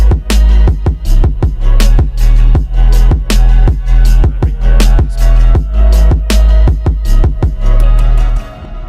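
An electronic dance drop built in FL Studio, instrumental only with the vocals removed, pounds along with a steady four-on-the-floor kick, a thick sustained bass, and crisp hi-hats and percussion, loud and continuous until it cuts off at the end.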